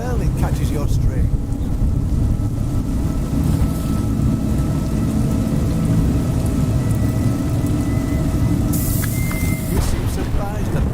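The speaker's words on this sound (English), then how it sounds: "Surprised that rain comes from the heavens." Steady heavy rain and low rumbling thunder in the video game A Juggler's Tale fill the scene as a constant loud wash, with a voice speaking over it and a brief sharp crack near the end.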